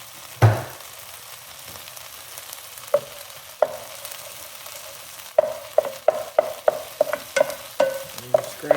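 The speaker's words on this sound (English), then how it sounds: "scramble your egg on the side" Egg being scrambled in a frying pan for Filipino pork belly fried rice, a faint background sizzle broken by a series of sharp spatula taps and scrapes against the pan, quickening toward the end.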